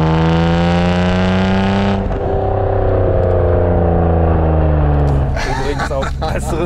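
BMW 850CSi engine with a custom exhaust fitted with flap control, revving loudly close by with a rising and falling drone, its pitch climbing then dropping, ending with a sharp burst of throttle.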